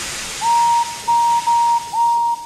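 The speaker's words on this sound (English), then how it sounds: "using Henry's whistle, he gave the special signal which meant that he wanted help up the hill." A steam engine's whistle sounds a signal asking for help up the hill: four clear, steady tones of nearly equal pitch, each about half a second long with short gaps, loud and close against faint background hiss.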